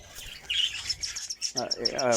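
Cockatiels at a cockatiel farm give repeated high chirps, close and lively, and a voice starts talking over them partway through.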